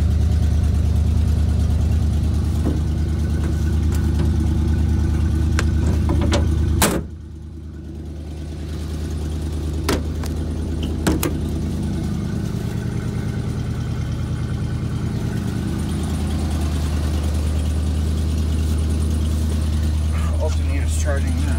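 A 1988 Chevy R30 truck idles after a cold start, its loud, steady low-pitched engine drone running throughout, dipping briefly after a sharp click before settling back into an even idle, with occasional clicks and knocks over it.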